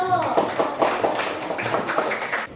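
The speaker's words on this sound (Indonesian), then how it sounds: "Beri tepuk tangan untuk kelompok 1." Classroom applause for a student group: a short patter of clapping from a small group, with voices over it.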